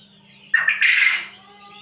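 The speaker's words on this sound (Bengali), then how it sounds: "এই যে এটা হচ্ছে আমার কোয়েল পাখি" A quail in its floor coop gives a short loud squawking call with a couple of quick bursts, close by, over a faint steady hum.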